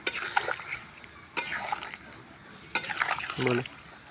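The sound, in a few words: fried fritters dropped into boiling cauliflower curry gravy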